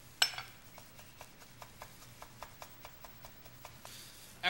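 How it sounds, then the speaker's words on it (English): A knife minces fresh oregano on a cutting board in quick, faint, evenly spaced taps, about a dozen light chops at close range in an otherwise quiet kitchen. "we're going to mince about a 1/2 teaspoon of oregano"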